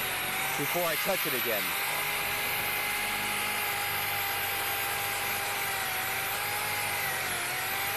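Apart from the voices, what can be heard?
car paint polisher buffing machine running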